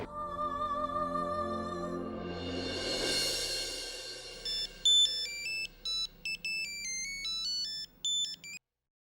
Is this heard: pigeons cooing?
no